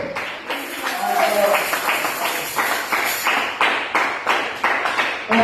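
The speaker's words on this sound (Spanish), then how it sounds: "Denle un fuerte aplauso al Señor." Church congregation applauding in a series of strong rhythmic bursts of clapping, loud and close, with voices mixed in among the claps.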